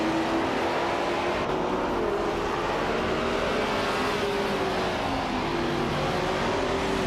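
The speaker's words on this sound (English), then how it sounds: "Jerkplays is driving a Holden Monaro from 1968" A 1968 Holden Monaro race car engine in a racing video game, droning steadily at sustained revs with shifting pitch, loud and continuous with no talk.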